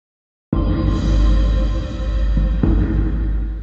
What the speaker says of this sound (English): what you're hearing now is the composer's mix